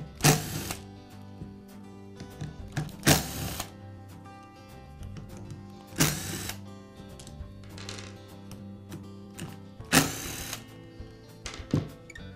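A cordless screwdriver whirs in short bursts while backing screws out of the pad on a DeWALT sander polisher, four or so loud close runs separated by quiet handling and faint clicks.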